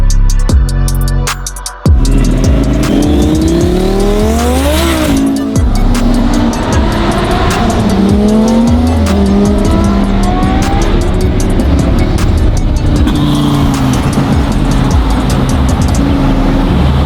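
A straight-piped widebody Ferrari 458 revs hard and accelerates, loud and close, the raw exhaust note climbing through rising pitch sweeps with sharp crackles and a steady roar that holds for over fifteen seconds, no talking.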